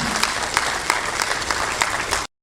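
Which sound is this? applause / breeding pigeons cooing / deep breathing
applause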